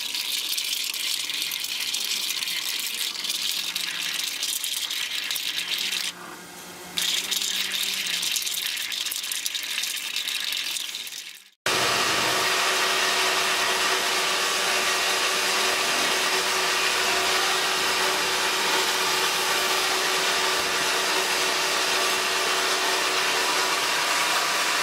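A bandsaw runs loudly and steadily in a workshop alongside a die-sink EDM machine, its broadband whir and hum continuous for about twelve seconds before cutting off abruptly, then a different steady machine noise carries on.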